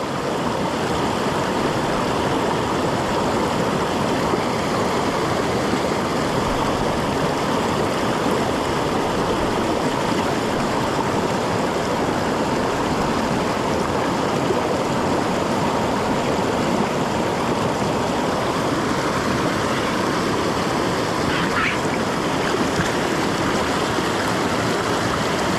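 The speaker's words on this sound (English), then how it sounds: "Leave them in cold, fast water here." Cold, fast-flowing Arizona mountain creek rushing steadily and loudly close by, a dense continuous wash of turbulent, bubbling water with no talking over it.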